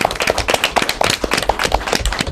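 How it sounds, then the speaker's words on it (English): Applause from an audience closing an elementary school academic quiz match, scattered and fairly close, with uneven bursts of individual claps rather than a dense roar over about two seconds. "I like to end with a big round of applause"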